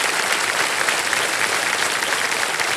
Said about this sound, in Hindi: सर मेरे महिलाएं जो है खूब ताली बजा रही हैं।